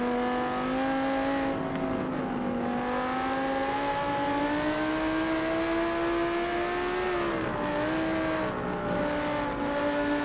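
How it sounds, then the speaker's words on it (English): An Audi GT race car in an exotic GT round, its engine holding a loud, steady high-revving note on track, with the pitch rising and falling through gear and throttle changes for the full length. "This Audi does sound good, actually."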